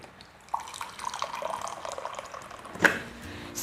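Water being poured into a cup for an instant coffee frappe makes a close, light trickle that starts suddenly, runs briefly and ends with a small splash and clink, with no speech.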